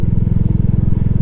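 Royal Enfield Classic 350 single-cylinder motorcycle thumping steadily while riding, a loud, even low pulse close to the rider with no talk.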